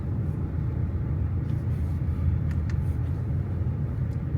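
Road traffic rumbles steadily from inside a moving car on a highway in America, a low, continuous drone with faint ticks and no voices.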